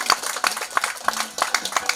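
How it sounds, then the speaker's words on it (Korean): An audience at a Gyeongju peace declaration gathering claps for bereaved families of civilian victims, a brief burst of quick, close, uneven claps from a small crowd. "우리 모든 유족분들께 힘내시라고 박수 한번 부탁드립니다"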